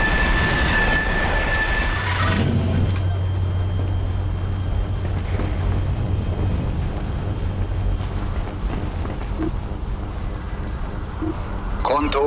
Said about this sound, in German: mit der U-Bahn